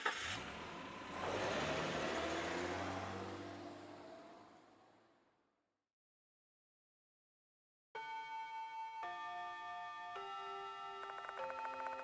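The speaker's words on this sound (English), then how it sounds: "I slide in the car and take another deep breath, and then I slowly turn the ignition key." A car ignition key turns in the video game Death Mark 2, and the engine starts with a loud, rising broadband roar that fades to silence over about five seconds. A chiming musical tone follows.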